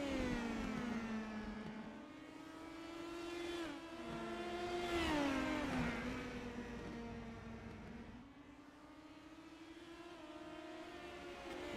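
Race car engine at a Southern National oval race, howling and rising and falling as it revs through laps, loud throughout with a second car passing, no talk.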